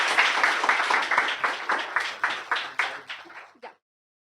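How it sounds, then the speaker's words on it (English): Dense applause from an audience at a public guidance session as a retired IAS officer is invited to the stage. It is steady and fairly loud at first, then thins into scattered individual claps that stop abruptly near the end. "Please give a big round of applause."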